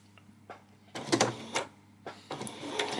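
A sewing machine stitches a ruffle seam at slow speed with a normal stitch, giving short, quiet whirring bursts with brief pauses between runs.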